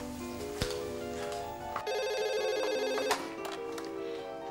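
A telephone rings indoors at night in a home, sounding as a steady, repeating electronic ring that is fairly quiet and heard alone without speech.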